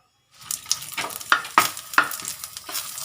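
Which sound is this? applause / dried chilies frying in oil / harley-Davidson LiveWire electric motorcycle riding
dried chilies frying in oil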